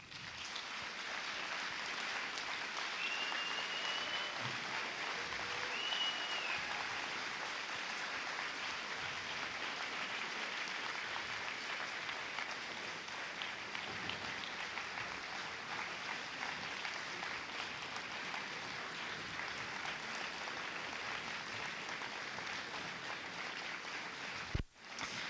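A round of audience applause for guests at a college day event, steady and fairly soft, sustained for about twenty-five seconds as a continuous wash of clapping before cutting off.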